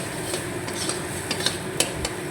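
Bean mash being stirred slowly in a pan, soft scraping strokes with light utensil clicks against the metal over a faint steady sizzle.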